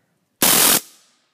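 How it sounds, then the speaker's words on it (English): A single rapid burst of full-auto fire from a KWC Broomhandle Mauser CO2 replica air pistol, a sharp buzzing rattle lasting under half a second, then a short fading echo. "And now for full auto, which is the beautiful thing about this gun."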